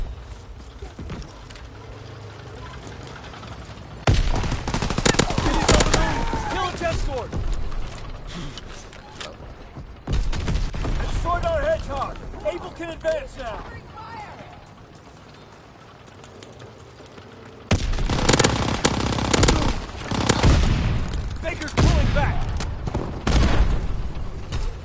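Bursts of gunfire from Call of Duty WWII, loud sustained volleys in several waves separated by quieter stretches, with mechanical clatter between them.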